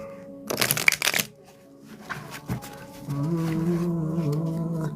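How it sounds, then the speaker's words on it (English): Tarot cards shuffled by hand, a dense riffling burst near the start followed by softer shuffling, while a steady tonal hum rises underneath later. "Two more shuffles, guys."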